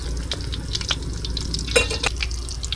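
Banana slices frying with sugar in a pan sizzle steadily, with the close clicks and scrapes of stirring on top.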